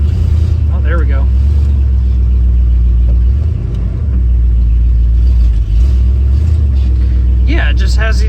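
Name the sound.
1988 Jeep Grand Wagoneer engine running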